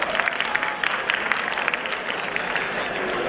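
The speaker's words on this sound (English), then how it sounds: "Also to all our contestants, please clap for them guys at least once" Audience applause for contestants at a college festival pageant, a loud dense crowd of clapping hands with scattered sharper claps and faint cheering mixed in, continuous across the whole moment.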